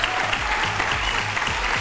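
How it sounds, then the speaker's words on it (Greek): Steady studio audience applause on a Greek TV show, a dense, even wash of clapping that holds at constant loudness for the whole short stretch, with no talk over it. "ένα χειροκρότημα"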